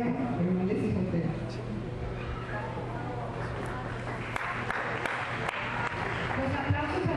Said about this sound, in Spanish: Los aplausos al final de la familia